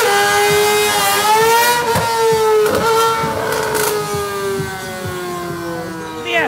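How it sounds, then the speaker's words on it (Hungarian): A motorcycle engine at wheelie practice in Dubai revs in a high, wavering whine that slowly falls in pitch. Sharp pops and clatters break through as the engine carries on loud and near. "Szóval gyakoroltatják velük az egykerekezést igazi motorral."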